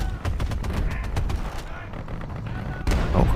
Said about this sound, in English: That was a terrible shot. And I missed with my secondary gun as well.